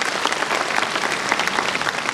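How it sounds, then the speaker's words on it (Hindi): A crowd at a live public programme at a memorial hall breaks into loud, steady clapping, a thick burst of applause that fills the short stretch without pause. "तो एक जोरदार ताली अपने लिए।"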